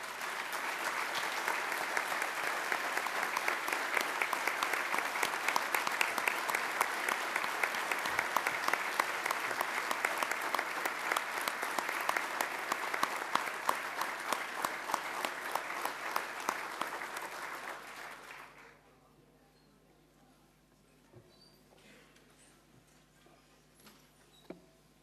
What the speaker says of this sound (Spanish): Renovamos el aplauso para él.